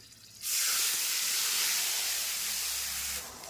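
Water poured into hot mustard oil tempered with black cumin, green chilli, salt and turmeric in a wok: a sudden loud, steady hiss and sizzle of steam that holds for nearly three seconds before cutting off.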